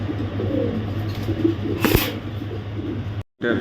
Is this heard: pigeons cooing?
yes